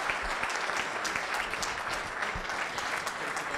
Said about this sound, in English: please give His Excellency the biggest round of applause